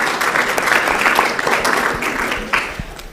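An audience at a panel discussion on immigration applauds a new American citizen, a dense burst of close hand clapping that holds steady for a few seconds.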